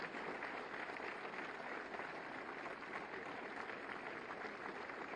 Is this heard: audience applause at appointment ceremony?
yes